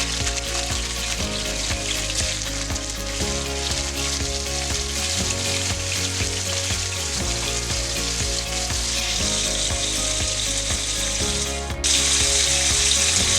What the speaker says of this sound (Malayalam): ഞാൻ ഇനി പാവയ്ക്ക ഇതിലേക്ക് ഇട്ട് കൊടുക്കുന്നു.